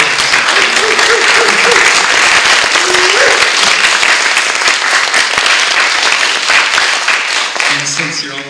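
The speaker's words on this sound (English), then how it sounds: "since you're all in the mode for clapping" Audience at an artist panel applauding loudly and continuously, a thick crowd clapping that holds for several seconds before thinning, with faint voices and a brief tonal sound mixed in near the end.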